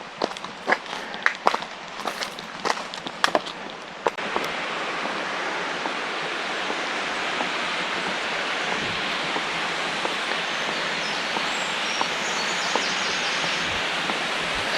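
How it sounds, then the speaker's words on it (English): Footsteps crunch along a footpath for a few seconds, then a steady, broadband rush of falling water from a waterfall in the Eden Valley fills the scene, loud and constant. "So what I'll do, I'll just go up the footpath here and show you the waterfall."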